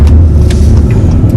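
A car passes close behind a moving 2015 Acura TLX, its steady low road rumble and engine drone filling the short stretch without any voices.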